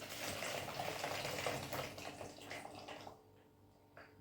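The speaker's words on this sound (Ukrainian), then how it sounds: "Далі беру воду, виливаю воду, теплу" Warm water pours steadily in a full rushing stream for about three seconds, then stops, leaving faint drips and a quiet splash.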